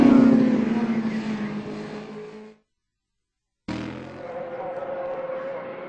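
Road-racing motorcycles at the Northwest 200 scream past at about 190 mph: a loud, fading rush of engine noise, a moment of silence, then another bike blasting in close and trailing away.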